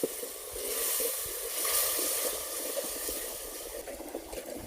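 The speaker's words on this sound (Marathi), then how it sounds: "जेव्हा आपलं वाटण खाली लागतं त्यावेळेस आपल्याला 1 पळी तूप घालून वाटण चांगलं परतून घ्यायचं आहे" Masala paste frying in ghee for a spicy mutton curry cooked over a wood-fired stove: a steady, moderate sizzle and hiss with light crackling throughout, fairly close, with no talking.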